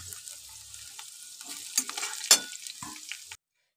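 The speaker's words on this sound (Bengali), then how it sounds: "ক্যাপসিকাম ভাজা একেবারেই রেডি হয়ে গেছে, এটা খুব সুন্দর একটা গন্ধ বেরিয়েছে।" Capsicum frying in a pan gives a soft, faint sizzle with scraping stirring strokes and a few sharper clinks, then cuts off abruptly.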